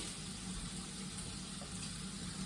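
Hands washed under a running tap in a home kitchen while making carbonara, a steady, close wash of water with no talk over it.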